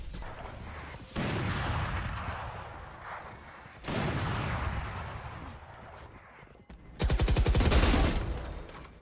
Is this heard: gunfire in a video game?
yes